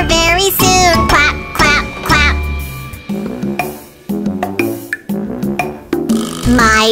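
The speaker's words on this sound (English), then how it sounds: "Quack." Cartoon duck quacks from a children's animated hospital and ambulance story, loud and repeated in a quick burst across the clip, mixed with bright music.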